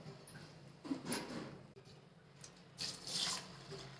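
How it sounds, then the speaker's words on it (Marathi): Water pours and splashes as ration rice and chana dal are rinsed, with a quiet, uneven stream rising in two louder bursts. "दोन तीन पाण्याने स्वच्छ धुवून घेते"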